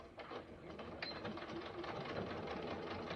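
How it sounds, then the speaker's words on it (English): A sewing machine stitches along marked lines on a backpack's zipper pocket lining. It runs as a steady, close, rapid mechanical whir with a fast pulsing needle rhythm for the whole stretch. "I went ahead and placed our piece on the machine. I am just going to sew on the lines,"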